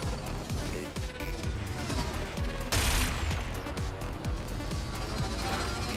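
Missiles and rockets fire in the futuristic anti-gravity racer Wipeout Omega Collection, with repeated sharp blasts and a bright burst near the middle over a constant roar of racing engines and music.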